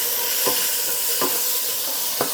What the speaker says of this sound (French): Je rajoute les poivrons. On vient brasser ça.